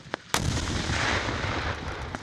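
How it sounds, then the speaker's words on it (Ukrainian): Sharp artillery blasts at a frontline military training range in the Donetsk steppe: a faint thump, then a loud explosion followed by a long rumbling roll that fades, with another distant report near the end. "Прифронтовий полігон у Донецьких степах гомонить та вибухає."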